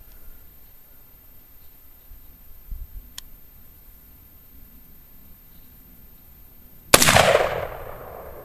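A single sharp, loud crack from a Bushmaster XM-15 E2S AR-15 rifle fired at an outdoor target, ringing out with a short decaying tail after a quiet stretch with a faint tick.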